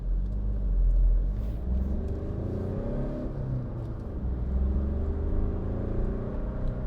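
A 2016 Skoda Fabia 1.4 TDI Monte Carlo cruises steadily with its speed limiter engaged, giving a continuous low engine and road rumble from inside the cabin that stays close and even throughout, with no voices.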